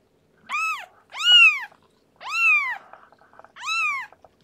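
A kitten gives four loud, drawn-out meows close by, evenly spaced with short pauses between them, calling for its mother.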